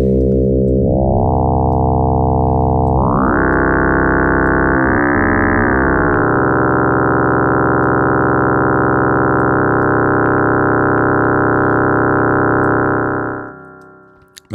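A loud, sustained modular synthesizer drone using exponential FM, with buzzing, shifting harmonic tones that wobble and bend in pitch, steady for over ten seconds before cutting off.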